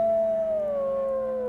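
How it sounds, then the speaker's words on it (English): A wolf in the WolfQuest video game lets out one long, steady howl that slowly falls in pitch, clear and prominent with no talking over it. "She does like to sing, so he will howl."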